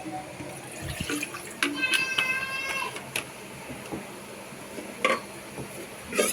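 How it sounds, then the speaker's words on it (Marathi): Water poured into a pressure cooker that still has pav bhaji stuck inside, a quiet splashing pour lasting several seconds near the microphone, with a few clinks and a faint cat meow partway through. "याच्यात पाणी टाकून आपण पावभाजीत पाणी टाकणार आहोत."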